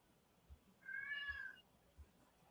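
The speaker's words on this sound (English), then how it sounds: "I hear your cat." A house cat gives a single drawn-out meow, fairly faint and distant, over a quiet room with a few soft thumps before and after.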